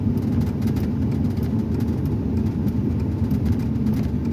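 A steady, loud, low pickup truck engine rumble through a 4-inch straight-through exhaust with a deep droning note, continuous and close, with no talking.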